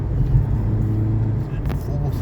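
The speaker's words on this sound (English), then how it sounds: "and away we go again. Full throttle." Engine of a base-model Mazda MX-5 G20 Roadster pulling hard at full throttle, a steady low drone heard from inside the car with no talk over it.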